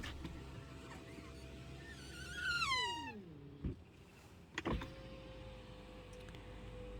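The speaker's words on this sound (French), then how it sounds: "Je pense notamment aux vitres qui couinent." Power windows on a Tesla Model 3 squeak as the glass moves, a rising whine with a squeal that ends in a thump and then a second short motor run, heard up close in a quiet cabin without talking.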